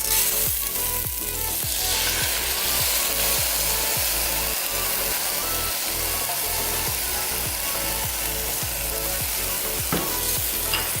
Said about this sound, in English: I'm just gonna go ahead and fry the rice.